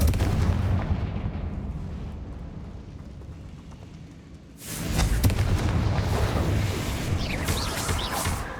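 Booming fire-spell blasts in the Hogwarts Legacy game, a rumbling barrage of explosive impacts that dips briefly then surges back loud and dense, with crackling debris throughout.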